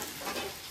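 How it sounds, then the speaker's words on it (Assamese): Hyacinth beans (urahi) frying in a pan, a steady close sizzle with faint stirring running evenly through the whole short stretch, no voices. "এয়া কি উৰহি ভাজি নেকি"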